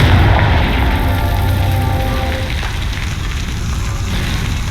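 A fiery blast from the Confringo spell in Hogwarts Legacy, a loud booming explosion that rumbles and crackles like burning fire, fading slowly over several seconds with no talking.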